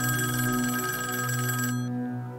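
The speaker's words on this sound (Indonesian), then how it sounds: "telepon di ruang frontman berbunyi" A telephone in the frontman's room in a Squid Game episode scene rings with a bright, steady bell tone, then cuts off abruptly near the end, leaving a faint fading tail.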